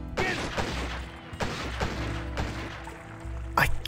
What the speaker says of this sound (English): they're firing a little bit under the bridge now